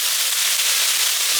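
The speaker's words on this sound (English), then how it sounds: "A little drizzle of Chinese rice wine." Chinese rice wine drizzled into a hot wok with stir-fried cucumbers sets off a loud, steady sizzle and steamy hiss that fills the whole moment up close.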